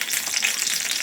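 Ghee sizzles hot in a pan while tempering for pepper chicken masala, a steady, close, bright crackle with no pause.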